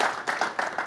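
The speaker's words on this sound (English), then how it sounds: "Can we give them a quick round of applause and encouragement?" Brief burst of audience applause at a tech talk on education and startup mindset, several quick claps forming a light, moderately close patter.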